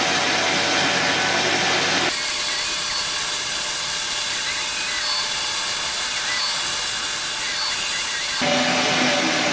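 Long wood strip ripped with a saw, about 30 mm wide, a loud steady grinding roar that runs continuously, easing slightly in the middle stretch before rising again at the end.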